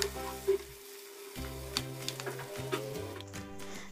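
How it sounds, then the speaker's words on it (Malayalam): Tomatoes frying in a pan are stirred, giving a few soft scrapes and light sizzle over a steady low background hum, with no talking. "ഒന്ന് തുറന്നിട്ട് ഇതൊന്ന് ഇളക്കി കൊടുക്കാം"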